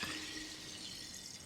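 Topo Chico sparkling mineral water fizzing steadily up close, a dense, continuous hiss of tiny popping bubbles with no talk over it.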